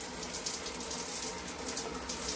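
Running tap water pours steadily over a plastic lotion pump nozzle being rinsed, a continuous close splashing gush with no talking.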